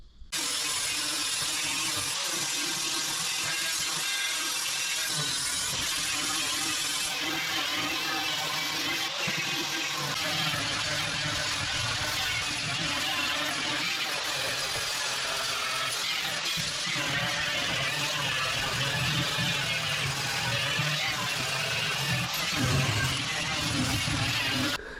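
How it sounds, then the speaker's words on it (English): Angle grinder fitted with a flat wheel stripping rot and old coating to bare metal on an oval-window VW Beetle truck body, a steady loud continuous grinding whine running unbroken for the whole stretch with no talk. "What I'll be using is the flat wheel on the grinder again."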